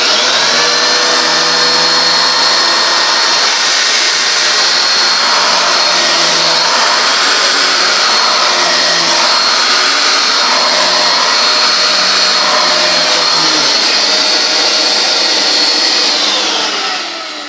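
A Simplicity Synchrony vacuum cleaner with a direct air motor and agitation runs loud and close, a steady high whine and roar as it sucks up rice, holding level before easing off at the very end.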